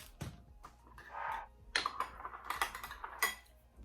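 A utensil clinks and taps against a small bowl while lime zest, salt and pepper are stirred together, giving scattered light metallic clicks and scrapes in an irregular rhythm, close and fairly quiet.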